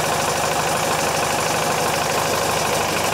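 Yanmar marine diesel engine running at a steady idle, loud and close with a continuous rhythmic knock and vibration, no talk.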